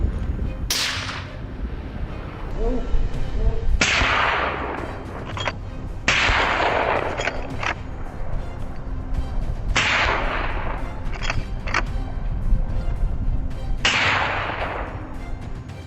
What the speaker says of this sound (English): My teammate fired first, his bullet striking a boar from behind.